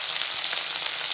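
Bengali fritters (bora) frying in hot oil in a pan at home, giving a steady, dense sizzle that stays even and close throughout with no talking.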